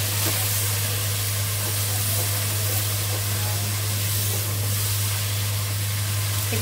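Vermicelli frying for an Eid dish as a little water is poured into the hot pan, a loud, steady steaming hiss over a constant low hum.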